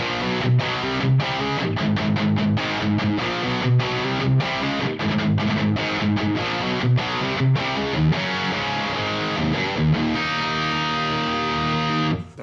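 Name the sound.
distorted electric guitar through Neural DSP amp plugin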